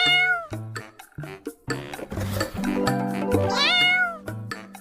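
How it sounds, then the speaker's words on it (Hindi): Cartoon kittens mewl in a rapid string of high, bright meows, some short and some drawn out with rising and falling pitch, close and loud over light music, with no talking. "ये बिल्ली के बच्चे तो बहुत शैतान हैं।"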